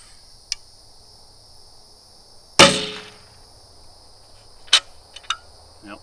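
A loose ring on a Hoyt barebow weight system rattles after an arrow is shot. One sharp, loud metallic crack decays quickly, followed by a few smaller clicks and taps in otherwise quiet surroundings.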